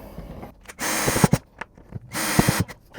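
A power drill drives screws for a wall heater bracket into a wall in two sustained whirring bursts, loud and close, with clicks and handling knocks between them.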